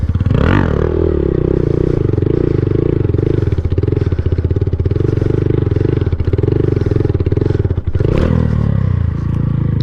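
A Honda Grom motorcycle with a broken foot peg holds a steady engine drone while riding tight sit-down circles, its exhaust note wavering slightly and dipping briefly near the end, close and loud with no talk.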